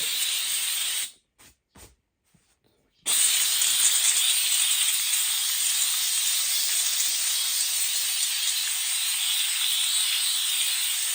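A cheap handheld steamer hisses loudly in a close, steady stream of steam, cut off briefly near the start and then running continuously without talk.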